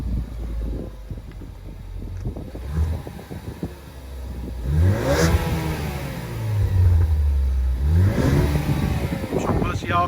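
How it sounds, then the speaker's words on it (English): Ford Focus ST on its stock exhaust revs up twice in quick blips, each rising and falling sharply over a low idle, with light wind buffeting the microphone. "here is a stock exhaust."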